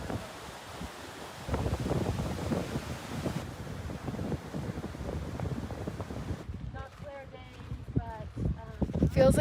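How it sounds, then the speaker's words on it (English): Cold wind gusts across a high mountain trail in the clouds on the trek to Everest Base Camp, buffeting the microphone in rough bursts; a voice speaks near the end. "It's now cold and windy and we're in the clouds."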